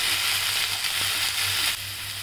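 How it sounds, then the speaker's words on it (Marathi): Green chilli and garlic paste frying in a pan for beetroot bhaji, making a steady loud sizzle close up that drops slightly near the end, with no voices. "आता आपण याच्यात हिरवी मिरची आणि लसूण वाटून टाकलं तर ते टाकूया आणि छान परतून घेऊया"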